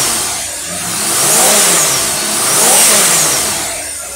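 A V8 engine fitted with a Holley/Pro-Form 750 vacuum secondary carburetor revving on a dyno, loud and close, its roar swelling and easing in two long waves.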